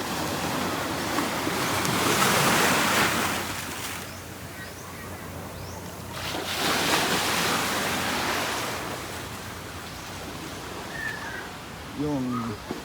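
Rough surf surges in broad washes at Boracay in the wake of Typhoon Bavi, with wind over the beach; the roar swells, eases, then rises again, and brief voices come through near the end.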